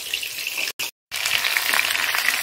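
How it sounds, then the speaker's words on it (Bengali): Fish frying in a pan gives off a steady, bright hiss and sizzle that cuts out briefly partway through, then carries on evenly with no talking. "এখন মাছটা ভাজা হচ্ছে"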